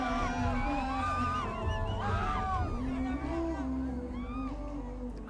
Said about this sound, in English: Crowd just rejoicing the atmosphere